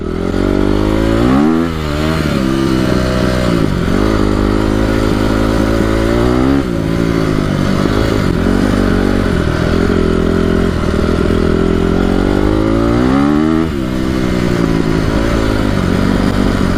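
Honda CRF250R dirt bike engine, warm and on a fresh piston, runs loud and close with repeated throttle blips rising and falling over a steady idle, no talking.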